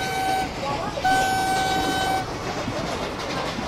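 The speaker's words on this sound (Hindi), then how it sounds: "एक तो हॉर्न यार इतना शार्प है ना," A Vande Bharat Express horn in Train Simulator on PC sounds in two sharp, sustained blasts, loud and close, with a short gap between them over a rumbling running noise.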